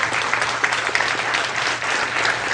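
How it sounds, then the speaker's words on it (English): A seated audience bursts into steady applause for a volunteer coming up on stage during a hypnosis seminar, the clapping dense and continuous throughout with no speech over it. "Give him a round of applause as he sits up here."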